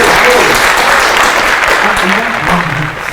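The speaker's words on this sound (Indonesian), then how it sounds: "kita beri tepuk tangan buat Raffi." A talk show audience gives a guest a dense burst of clapping that stays loud, then eases off slightly at the end, with a voice speaking over it.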